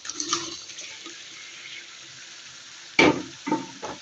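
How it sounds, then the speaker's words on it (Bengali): Fried snake gourd and potato pieces tipped into a hot frying pan for a fish curry, giving a soft sizzle at the start, a sharp clatter and splash near the end, then a couple of smaller stirring bursts. "তো এখানে ভেজে রাখা চিচিঙ্গার আলুগুলো আমি দিয়ে দিলাম,"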